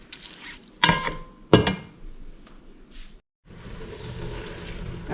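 Two pounds of ground chuck with two chopped medium onions sizzles in a pan, opening with a soft fry, then two loud clanks of utensil against pan, a brief silence, and a steadier sizzle afterward.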